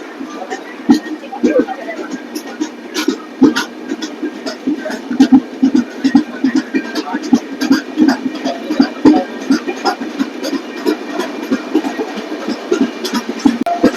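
A passenger train pulls out of Chittapur station, its steady low rumble and rhythmic clatter of wheels running continuously throughout, with a voice talking over the noise.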